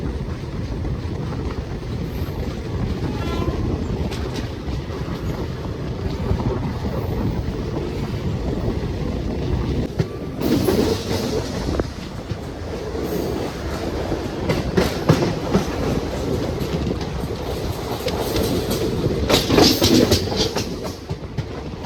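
Vanchinad Express train runs through Kerala with loud continuous rumble and rhythmic clickety-clack of wheels, heard from on board with gusty wind noise and intermittent sharper rattles.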